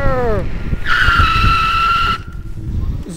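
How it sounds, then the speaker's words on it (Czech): An electric scooter tire skids under hard braking, giving a loud, sustained squeal of a little over a second that stops abruptly, with someone talking over it. "Zvuk prudce brzdící pneumatiky je v tomto případě, řekl bych, až extrémně vtipný, protože to zní jak nemlich prostě jako auto"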